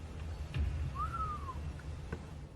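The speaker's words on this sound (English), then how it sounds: "she hears a whistle." A single faint rising-then-falling whistle sounds in a quiet, supposedly haunted building, with a couple of soft knocks or thumps nearby and low background rumble.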